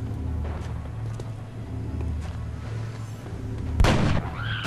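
A single loud gunshot rings out late, a sharp broadband blast, as a headshot lands on an alien in the turn-based strategy game XCOM: Enemy Unknown. A steady low hum of game ambience runs beneath it.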